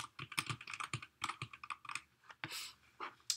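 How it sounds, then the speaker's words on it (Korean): Rapid, irregular clatter of keys being struck at random on a computer keyboard, close and fairly quiet, in short uneven bursts with brief pauses and no talking. "숫자는 제가 그냥 키보드를 막 눌러서 임의로 이렇게 선정을 해보겠습니다."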